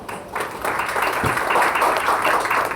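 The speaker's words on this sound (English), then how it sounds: "Give them a round of applause, please." Audience applause at a livestreamed talk on machine learning, a fairly loud burst of clapping that builds quickly and stays dense for a couple of seconds, with faint voices under it.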